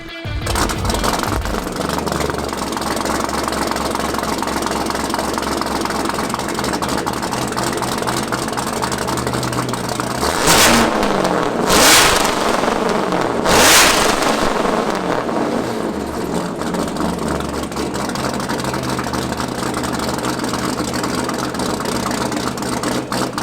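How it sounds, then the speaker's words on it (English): A 740 hp supercharged C7 Corvette Grand Sport with a custom Florida High Performance comp cam and factory exhaust manifolds idles with a loud, choppy lope, blipped by three sharp revs near the middle before settling back to idle. "We went with a custom Florida High Performance comp cam, which chops like crazy, makes a ton of power"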